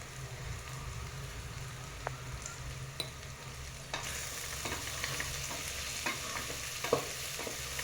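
Onion and tomato fry in a pan with ginger-garlic paste and turmeric. A steady soft sizzle runs underneath, broken by scattered clicks and scrapes of stirring. The frying grows a little brighter partway through, and no voices are heard.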